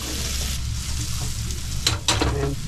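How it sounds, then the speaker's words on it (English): Onions fry in a pan with soy sauce and garlic aboard a sailing boat, giving a loud continuous sizzle with stirring scrapes and a brief louder spatter near the end. "Fried up the onions, we've beefed up the soy sauce, we put in the garlic"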